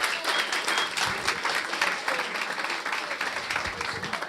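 Audience applause at a gathering in Santa Fortunada, Corrèze, honouring François Moncla: a crowd clapping continuously with individual claps audible in a busy, even wash, loud and close, with no speech.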